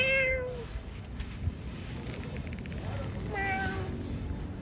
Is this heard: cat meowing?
yes